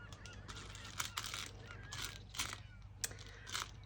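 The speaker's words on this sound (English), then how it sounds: "I don't know if you can hear the seagulls out there." Seagulls call outside, heard from indoors as a string of harsh, honking squawks arriving every half second or so, fairly faint over a low steady hum, with no talking.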